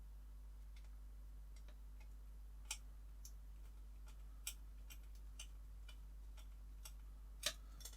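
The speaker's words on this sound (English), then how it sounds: "Let's get the first HP screw in." HP screws are driven into the passenger door of a DeLorean scale model, producing faint, sparse small ticks and clicks in a quiet room.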